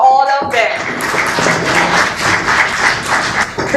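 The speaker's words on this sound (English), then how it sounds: "Please give a big round of applause for all of them." Audience applause at a kids' talent hunt public speaking event, a dense burst of clapping filling the room after a brief spoken lead-in, loud and close, fading slightly near the end.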